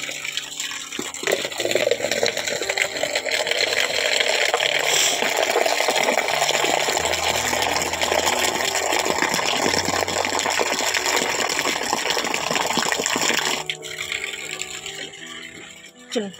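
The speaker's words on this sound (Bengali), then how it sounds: "আর এখন জল নিয়ে আসি" Water gushes steadily from a tap or bucket while cleaning at home, a loud continuous splashing pour lasting about twelve seconds before it eases off, with faint household sounds and a brief voice underneath.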